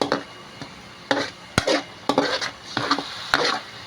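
A spoon stirs fish sauce into pink salmon sinigang with miso in a pot, giving a run of close, uneven scrapes and soft clinks over a low simmer, with no voices.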